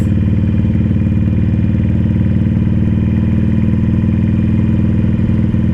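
A Harley-Davidson Iron 883 Sportster V-twin engine drones loudly and steadily while riding, a constant low throbbing rumble heard alone without talk.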